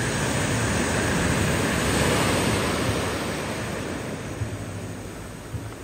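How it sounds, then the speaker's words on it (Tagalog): Ocean waves washing in steadily with a broad, continuous roar, mixed with wind buffeting the microphone, loud and close throughout with no voices. "wave of the ocean"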